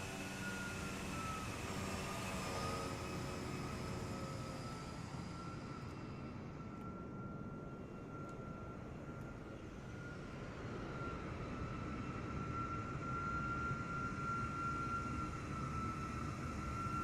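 A steady aircraft engine drone with a sustained tonal hum plays in Microsoft Flight Simulator 2024 on a beta build. It stays continuous and even throughout, with no talking.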